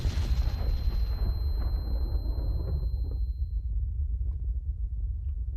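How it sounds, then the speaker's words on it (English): A furnace blows up in the Minecraft Alex's Caves mod: a heavy booming blast with a sharp onset that rolls into a long, low rumble fading over several seconds, with no talking. "I think my furnace might have blown up."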